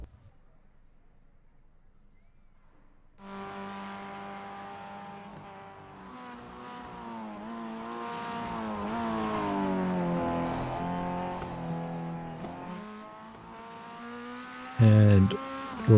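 Spec-5 race cars lapping the Bathurst circuit, with an engine note that rises in from silence and holds a loud, wavering whine as a car comes down the mountain, ending in a brief louder burst.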